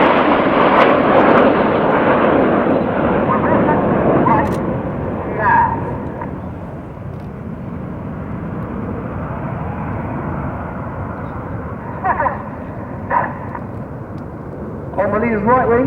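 Red Arrows jets in formation sweep past at an air show, a loud broad roar that swells early and fades into a long rumbling wash while an announcer talks over it.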